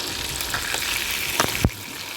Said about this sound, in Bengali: মাছগুলো আমরা বেশি ভাজবো না, হালকাই ভাজবো।